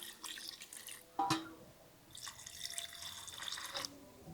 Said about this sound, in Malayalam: അതിന് നമുക്ക് 2 കപ്പ് വെള്ളം ഒഴിച്ചു കൊടുക്കാം.